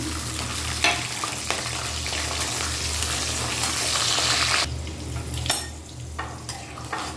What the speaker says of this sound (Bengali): রসুনটা মোটামুটি ভাজাও হয়ে গেছে